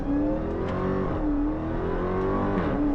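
A 2022 Dodge Charger Hellcat Redeye accelerates hard in first gear, its supercharged engine climbing in a loud, continuous rising roar that dips briefly near the middle and again near the end before pulling up once more.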